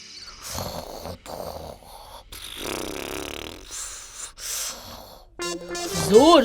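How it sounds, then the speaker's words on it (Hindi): An elderly woman snoring loudly in a comic domestic scene, a series of rough, rasping breaths and snorts that swell and fade. It sounds close and heavy and ends in a higher wheezing whistle. "जोर जोर से खर्राटे ले रही है"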